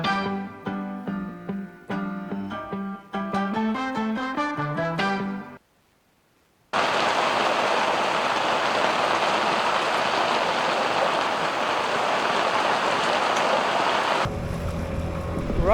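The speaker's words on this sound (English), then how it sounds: "Rained all morning, so we're stuck on the boat" Rain pours steadily on an anchored sailboat, a dense, even hiss lasting several seconds after a short stretch of plucked melody, then shifting to a softer patter.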